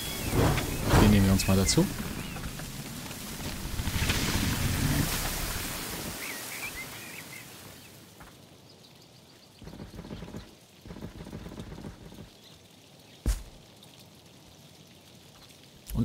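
Rain and rumbling thunder in the strategy video game Kingdoms Reborn, a loud, dense downpour early on that thins to a quieter patter, with a sharp crack near the end and someone talking over it.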